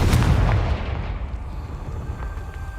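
A Confringo fire spell cast in the Hogwarts Legacy video game bursts with a loud explosive blast at the start, then settles into a rumbling, crackling tail that fades slightly but lingers to the end.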